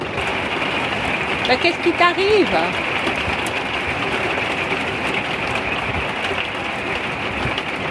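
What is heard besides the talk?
heavy rain shower with thunderstorm and hail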